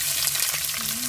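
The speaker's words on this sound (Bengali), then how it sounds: "এদিকে ডাল বাগার দিয়ে ফেলছি" Hot spice tempering hits a pot of dal with a loud, dense, continuous sizzle and crackle, close and unbroken throughout.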